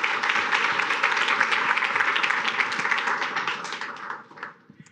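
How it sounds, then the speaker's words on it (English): An audience at a marketing meetup gives a warm round of applause to welcome a speaker, sustained dense clapping that thins and fades out over the final second. "let's give him a warm round of applause and welcome"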